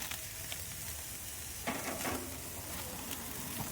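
Beef burgers sizzle on a charbroil grill with a steady, dense crackling hiss, close and fairly even, and a brief louder burst of spitting partway through.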